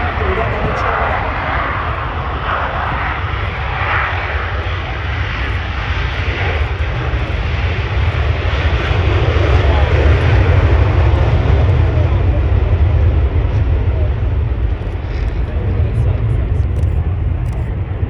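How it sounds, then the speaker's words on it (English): An F-16 fighter jet flies past at an air show, a loud, broad jet roar that swells and holds steady for many seconds while an announcer talks over a public address system. "If everybody looks to the right, you can see the F-16."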